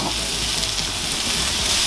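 Vegetables for chicken fajitas frying in a pan on high heat, a steady close hiss and sizzle running unbroken throughout with no talk.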